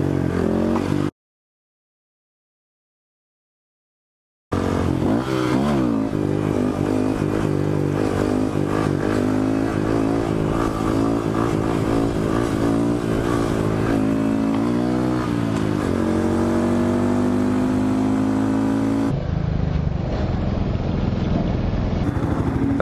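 Honda Grom motorcycle fitted with rear sets, its small engine revving up and winding down repeatedly, with rising and falling whine and gear-shift tones, loud and close throughout after a brief silent gap.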